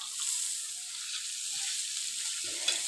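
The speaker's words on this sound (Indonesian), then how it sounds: "ini aku bumbu-bumbu tadi yang udah diiris-iris itu ditumis dulu sampai wangi" Sliced spices sautéing in a hot pan, a steady close sizzle that holds evenly throughout, with a brief faint stir of the pan near the end and no talking.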